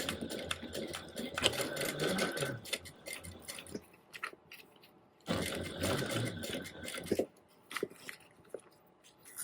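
A sewing machine stitches around a crossbody bag at a quarter-inch seam allowance, running in two steady whirring bursts of several seconds each with a pause between, close and moderately loud.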